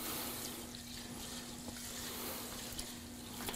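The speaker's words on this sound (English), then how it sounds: "Fill the bowl up with some water." Tap water runs into a rice cooker bowl to rinse rice: a steady, close, hissing rush of pouring water with no talk over it.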